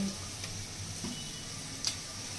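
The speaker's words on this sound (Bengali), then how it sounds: "কড়াইতে আলু ভাজা বসিয়ে দিয়েছি" Potatoes fry in a wok with a soft, even sizzle, steady and close, broken by a couple of faint stirring clicks.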